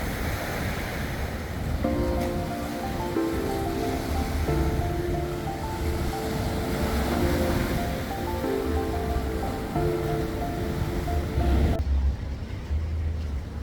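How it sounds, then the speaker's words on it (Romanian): Large ocean waves break on a Bali beach, their surf crashing on a coral reef offshore, giving a constant loud roar mixed with wind buffeting the microphone and a faint hum in the background. "Foarte mari valurile"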